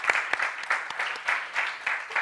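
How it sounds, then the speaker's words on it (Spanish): Audience members at a round table on extreme heat and summer gastrointestinal illness give a short round of applause, with uneven, pulsing clapping from a modest crowd. "Un aplauso para ellos."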